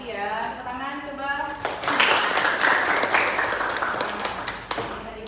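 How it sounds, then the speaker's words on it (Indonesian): Students in a classroom burst into loud, sustained applause and clapping that starts a couple of seconds in and carries on to the end, after a brief stretch of someone speaking. "Tepuk tangan coba."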